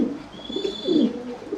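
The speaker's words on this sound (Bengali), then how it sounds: "প্রথমে আমরা একজোড়া কালো কিং কবুতর দেখতে পাচ্ছি।" A pair of black King pigeons coo in a farm loft, with soft, low, rolling calls repeating close by in gentle swells.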